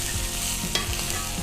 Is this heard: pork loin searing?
yes